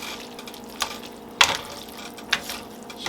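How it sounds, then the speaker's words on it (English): Pork noodle ingredients are stirred around a hot pan, producing a few distinct scraping clinks of the utensil against the pan over a soft, steady sizzle. "just stir everything around"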